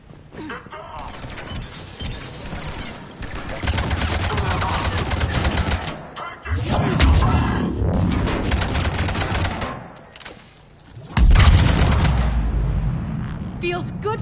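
Gunfire in Mass Effect 3 Legendary Edition, bursts of rapid automatic shots and impacts coming in loud waves with short pauses, mixed with game voices shouting.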